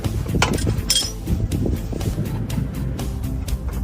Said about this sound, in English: First, remove these 2 screws and use a large wrench.